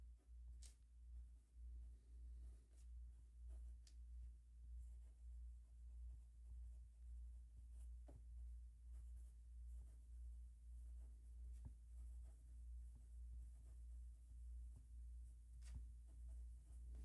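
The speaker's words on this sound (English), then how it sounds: "And a bit of a writing sample now." A TWSBI Vac 700 fountain pen nib scratches softly across paper in short strokes and pauses, faint and close over a steady low hum.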